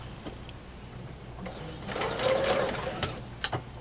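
A sewing machine runs in a short burst of rapid mechanical stitching through quilt fabric, fairly close, with quieter handling noises before and after.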